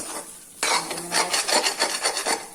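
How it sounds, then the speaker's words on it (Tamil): A spoon scrapes and stirs jackfruit seed fry around a pan, making rhythmic close rasping strokes with a faint sizzle underneath, starting after a brief quieter moment. "கிண்டி விடுவோம்"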